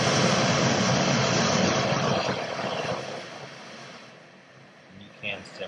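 A Bluu mega camping stove burner, once lit, roars with a loud, broad rushing hiss that gradually eases and quiets toward the end, with faint small clicks at the close.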